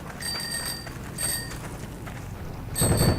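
A bicycle bell rings in a video game, with two bright metallic dings near the start and a third near the end over a low rumbling background.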